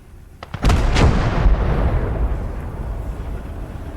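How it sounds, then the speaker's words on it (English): An enemy artillery gun fires in the World War II game Gates of Hell during a German frontal assault. A few faint sharp pops come first, then one heavy boom that rolls into a long, low, rumbling decay. "Achtung, Feindgeschütz!"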